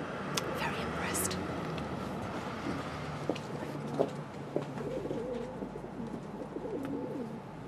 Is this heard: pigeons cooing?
yes